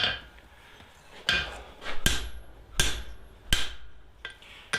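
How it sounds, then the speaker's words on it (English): A hammer strikes hot forged metal on an anvil for barn door hardware, landing about five heavy ringing blows at a slow, uneven pace, each with a bright metallic ring that fades, close and loud with no voices. "I'm driving down through the work and through the anvil."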